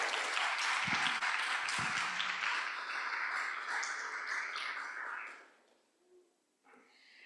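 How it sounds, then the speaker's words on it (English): Conference audience applauding steadily for several seconds, a dense wash of many hands that fades out near the end, with a faint voice briefly afterward. "please give her a huge round of applause"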